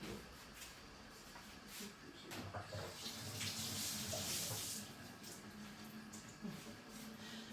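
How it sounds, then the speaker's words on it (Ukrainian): Water runs from a tap into a cooking pot while preparing trout, a steady splashing pour that swells through the middle and stays fairly close, with light handling clatter and no talk. "Наливаємо води, навіть не солимо."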